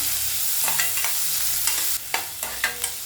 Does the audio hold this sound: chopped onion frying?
yes